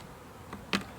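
Italian honeybees hum faintly around a backyard hive, with a single sharper buzz as one bee passes close, then a few softer flickers of wingbeats.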